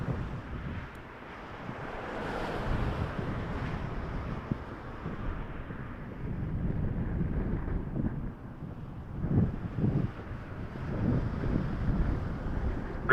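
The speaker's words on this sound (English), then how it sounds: "It's still windy." Strong, gusty wind buffets an outdoor microphone at Toronto Pearson Airport, a continuous rumbling roar that rises and falls in surges, with no voices present.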